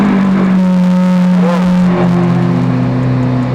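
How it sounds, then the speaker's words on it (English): A Lamborghini Aventador supercar engine runs in a loud, close, steady idle with a deep low drone, a brief rising rev in the middle, then settles back to a rumbling hum. "let's hear this puppy roar"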